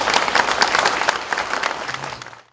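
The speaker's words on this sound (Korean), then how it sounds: "여러분들 한번 박수를 부탁드리겠습니다" Warm audience applause inside a church during a memorial service, a few seconds of dense clapping from the congregation that tapers off and ends.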